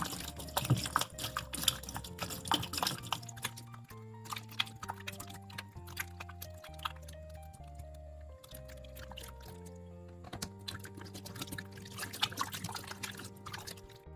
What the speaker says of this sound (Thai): ขั้นตอนนี้เราก็จะมาล้างเกลือออกให้หมดเลยนะครับ